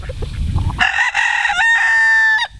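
A rooster crows loudly and close, one long cock-a-doodle-doo lasting about two seconds, after a brief rustle and low clucking at the start.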